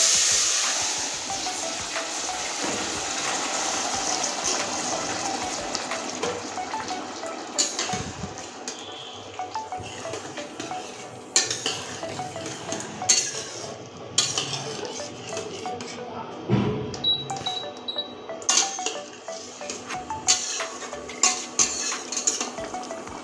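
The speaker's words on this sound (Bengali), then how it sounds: "এবার এই লাউয়ের তরকারিটা ছেড়ে দিচ্ছি।" Bottle gourd curry hits a pan of fried spice tempering with a soft hiss, followed by repeated metal spoon clinks and scraping against the pan as it is stirred, close and moderately quiet.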